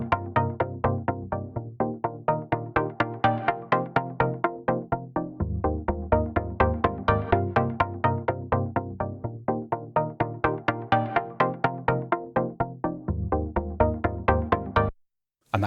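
A synth track run through an autofilter envelope with gentle LFO movement, a rhythmic pulsing pattern of rapid repeated notes whose tone swells brighter and duller over a two-bar cycle, loud and alone before stopping abruptly.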